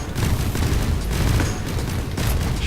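Bombs go off in Risk of Rain as a dense, continuous barrage of overlapping blasts and crackling bursts, loud and busy throughout with brief dips in between.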